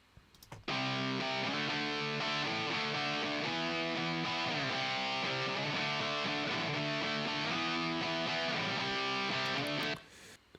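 Electric guitar driven by a TS9-style overdrive pedal into a vintage Marshall amp plays a steady hard rock riff of thick, crunchy chords, loud and unaccompanied for about nine seconds before stopping.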